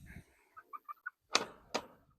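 Pasture chickens cluck in short, soft bursts and give a couple of louder squawks, scattered irregularly over a quiet farm background with no voices.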